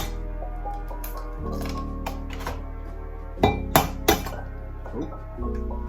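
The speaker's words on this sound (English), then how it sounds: "First off, crack the eggs." Eggs cracked against a bowl's rim while preparing a breakfast bulk meal, giving three quick sharp clinks in a row amid a steady kitchen hum and softer clatter of dishes.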